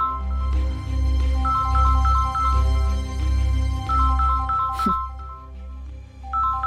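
A phone rings with a repeating electronic tune over a low, droning hum, with a brief sharp rustle partway through.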